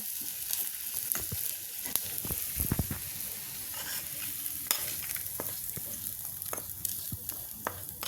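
Garlic and red chilli tempering for dhaba-style lasooni palak paneer crackling in hot oil, a continuous close sizzle with scattered pops and spoon scrapes.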